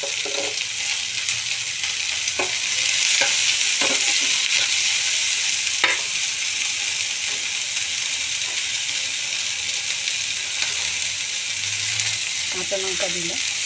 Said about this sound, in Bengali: তো এবার মটরশুঁটি, গাজর, বিনসটা দিয়ে দিলাম।